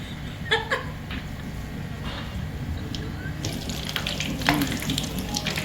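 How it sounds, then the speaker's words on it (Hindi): Pizza cutlets deep frying in hot oil give a steady, dense sizzle throughout, with a few clinks and scrapes of a spoon against the pan near the start and again later. "वो हमने डीप फ्राई कर रहे हैं"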